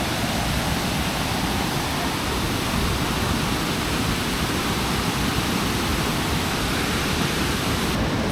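Mallipadu waterfall roaring steadily at close range, a dense continuous rush of falling water with no break and no voices.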